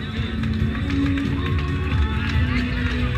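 An audience applauds prize winners at a local awards ceremony where a bottle of wine and a ham are handed out. Dense, steady clapping runs throughout, blended with crowd murmur and voices.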